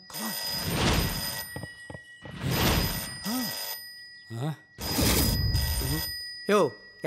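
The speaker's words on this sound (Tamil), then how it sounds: "ஃபோன் அடியா." Telephone ringing in a comedy film scene: brief electronic ring tones appear in the gaps between loud, animated talking.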